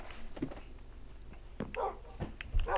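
Dog in Minecraft PlayStation 4 Edition giving several short barks and whimpers, scattered and moderately loud against quiet game background.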